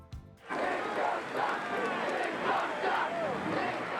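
A huge crowd of about 50,000 at a White Sox doubleheader at Comiskey Park roars at the Disco Demolition, a loud rolling mass of shouting and chanting that swells in waves, with a brief lower rumble just before it kicks in.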